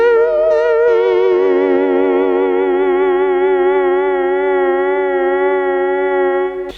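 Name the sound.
synthesizer tone with slow attack and vibrato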